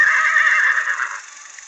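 A single loud, close horse neigh, a high wavering whinny that fades out over a second or so.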